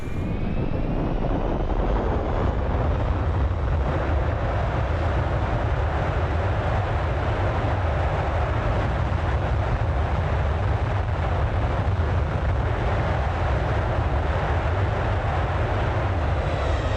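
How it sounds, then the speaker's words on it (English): Thrust reversers roar on a Flight Factor 777 airliner just after touchdown in X-Plane 11, a dense, continuous rumbling jet wash that stays loud and even throughout. "I love the sound of these reversers"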